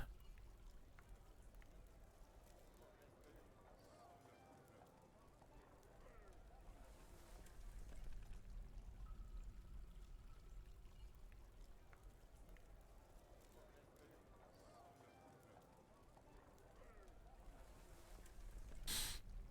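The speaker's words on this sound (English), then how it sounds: "It just started raining again." Rain falls steadily in the Dwarf Fortress video game, a soft continuous hiss and patter that swells slightly midway and again near the end, with no talk over it.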